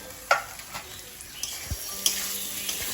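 Potatoes go into sizzling spice masala in a pan, giving a low frying hiss broken by a few clinks and scrapes as the mix is stirred, close by and fairly quiet.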